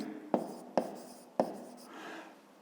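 Chalk or pen tapping and scraping out a fifth-grade math solution about milk and cheese prices, three sharp strokes close by followed by a soft scratching, with no talking.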